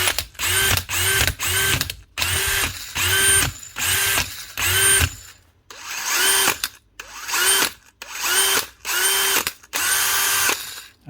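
A faulty power drill with a manufacturing defect whirs in a string of short on-off bursts, roughly a dozen trigger pulls separated by brief gaps, loud and close with a high whine over the motor hum and no talking.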